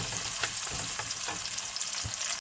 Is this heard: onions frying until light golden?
yes